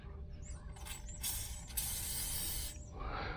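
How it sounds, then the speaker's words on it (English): Aerosol spray hissing onto a bolt on the suspension hydraulics of a 1992 Mercedes 600SEL, with a couple of short bursts and one longer, louder spray close up, and no talking. "let's say this bolt right there, the spigot here, I'll spray that a little bit"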